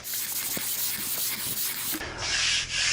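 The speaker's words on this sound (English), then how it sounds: "it doesn't even hurt to give it a quick lick with some smooth sandpaper" Quick back-and-forth rubbing of fine sandpaper on wooden moulding, a soft hissing scratch repeated in short strokes, close and fairly quiet.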